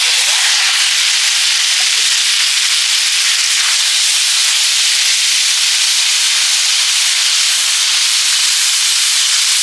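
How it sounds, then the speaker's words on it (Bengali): Taro stolons frying in hot oil with black cumin (nigella) give a steady, loud sizzle and hiss that runs unbroken from start to finish, with no talking. "এবারে কচুর লতিটা ভেজে নেব তেল দিয়ে কালো জিরে দিলাম"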